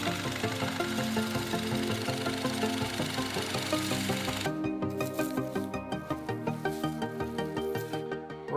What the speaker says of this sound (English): we are going to use this 50mm Forstner bit to drill a hole in the middle